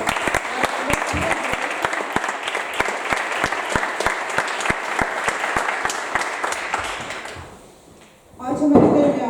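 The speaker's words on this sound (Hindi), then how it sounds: "उसके जलाल के लिए एक ज़ोरदार ताली भी बजाई जाए" A church congregation at a Christmas service bursts into loud, sustained applause with sharp individual claps, which fades out before a voice begins speaking at the end.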